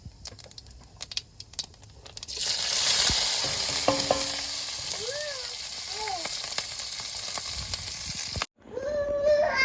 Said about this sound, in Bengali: এখন তেলের উপরে জিরেগুলো দিয়ে দেব